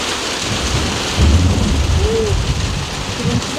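A thunderstorm with heavy rain and strong wind: dense, loud rainfall hisses steadily while a deep roll of thunder swells about a third of the way in, and a brief tonal hoot rises faintly over it.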